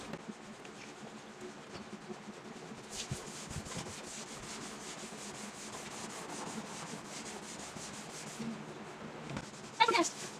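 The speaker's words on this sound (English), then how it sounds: "it doesn't matter which way we sand it, whether we go up or down, side to side, or in a circle" Wet sanding of primer on a 1972 VW Super Beetle body with fine-grit sandpaper, a steady close scrubbing rasp that continues throughout, with brief louder scrapes near the end.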